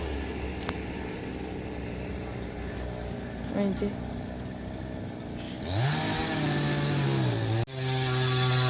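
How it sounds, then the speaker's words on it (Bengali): A hand-held machine cutting down trees beside a road with passing traffic drones on, rising to a louder revving, strained whine in the second half before a brief cut and a steady high run. "ওনার হাতেই আছে মেশিনটা উনি গাছগুলো কাটছে"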